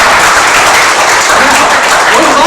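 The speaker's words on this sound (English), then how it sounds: "So give yourself a round of applause." Comedy club audience breaks into applause, a dense, loud burst of many hands clapping that holds steady for a couple of seconds with no talk over it.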